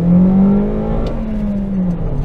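Toyota Corolla accelerating with the pedal to the floor, a steady close engine drone with a slowly rising and falling pitch, heard alone without talk.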